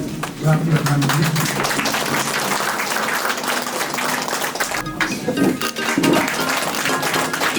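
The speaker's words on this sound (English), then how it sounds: "Clap your hands." An audience at a felicitation ceremony claps continuously, a loud dense patter of many hands mixed with voices and a few brief shouts throughout.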